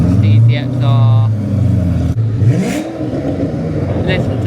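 A Koenigsegg CCXR hypercar engine revs on a track at a large hypercar gathering, its note swelling and sweeping past nearby as a person talks over the engine noise.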